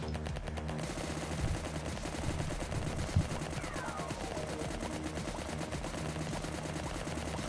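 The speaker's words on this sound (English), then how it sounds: "We have a new weapon, it's a machine gun" A machine gun fires in the video game Anstorm as rapid, continuous bursts of fast, evenly spaced shots over busy game sounds, sustained throughout without speech.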